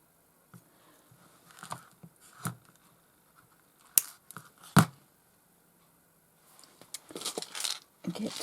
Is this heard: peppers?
no